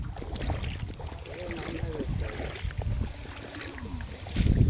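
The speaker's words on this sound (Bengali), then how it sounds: "দূরে অনেকে ওই যে ট্রলার যায় হ্যাঁ পদ্মা দিয়ে।" A trawler boat out on the Padma river sends a steady low engine rumble from a distance, mixed with wind and water noise in a rural setting.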